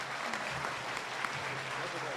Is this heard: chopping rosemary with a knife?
no